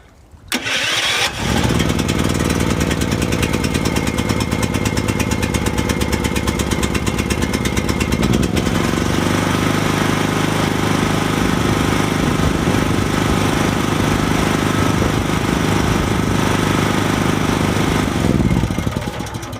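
A petrol generator engine cranks and catches after about a second, then runs loudly and steadily with a constant droning hum for the rest of the clip, close by and with no voices.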